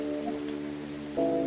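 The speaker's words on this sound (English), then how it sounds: "It was just raining lightly until now." Light rain falls steadily in the background of the video game Coffee Talk 2, a soft continuous patter under a sustained musical tone, with no voices.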